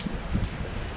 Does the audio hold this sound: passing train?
no